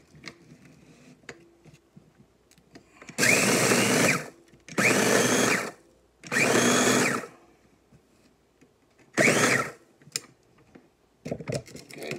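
A food processor pulses bread slices into breadcrumbs in a home kitchen, giving five loud whirring bursts of about one second each, separated by quiet pauses with faint handling sounds.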